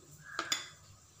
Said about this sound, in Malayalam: ഈ മാവ് കൂട്ടി വെക്കാനൊരു പാത്രം വേണം.